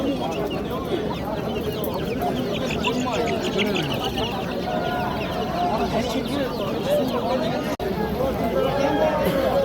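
Chicks and chickens cluck and peep in a dense, continuous din at a busy poultry market in Namangan, with people talking throughout over the birds.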